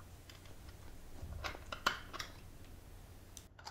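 A plastic cover and two screws come off a stock controller on a Sur-Ron Light Bee e-bike, making a few faint, scattered clicks and light plastic taps close by in a quiet room.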